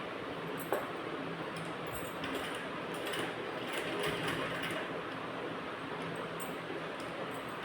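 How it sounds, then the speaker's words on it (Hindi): A sewing machine stitches a blouse seam with a steady, close mechanical whirring hum, running continuously with light rattling ticks throughout. "देखिए यहाँ से हमने सिलाई लगा ली है"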